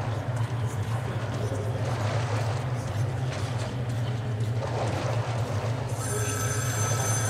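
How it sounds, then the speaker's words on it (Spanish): A telephone rings in Metro: Last Light Redux, a bright repeated bell that cuts in near the end. It sounds over a steady low rumble and murky background ambience from the game. "Teléfono."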